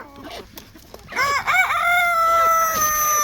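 Close chickens clucking in short bursts in a rural yard, then a rooster lets out a long, loud crow that carries to the end.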